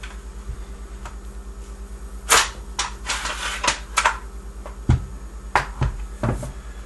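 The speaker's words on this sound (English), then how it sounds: "The upper receiver will now slide forward off the receiver." Metal parts of an FN FS2000 rifle clack and click as the upper receiver slides forward off the lower during disassembly, a few sharp close knocks and a short rattling burst in a quiet room.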